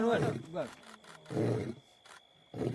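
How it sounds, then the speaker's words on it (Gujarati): Deep roaring bursts come and go in several separate blasts with quiet gaps between, fairly faint and mixed with voices. "સિંહ નો અવાજ આવે છે ક્યાંથી આવે"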